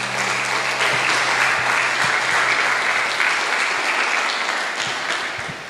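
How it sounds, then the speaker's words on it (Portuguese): A church congregation at a Portuguese-language service applauds in a dense, steady wash of clapping that holds evenly throughout and eases slightly at the end. "você aplaude pela palavra do Senhor"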